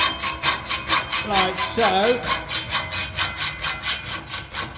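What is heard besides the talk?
hacksaw cutting a metal tube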